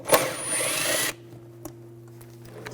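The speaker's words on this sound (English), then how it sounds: "We're going to take these two bolts out, use a 10mm socket." A power tool with a 10mm socket spins out a bolt on a 2000-2006 BMW X5 3.0L inline-six during belt work: a loud whirring burst for about a second, then a quiet shop hum with a few small clicks.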